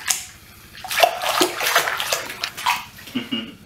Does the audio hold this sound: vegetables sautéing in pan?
no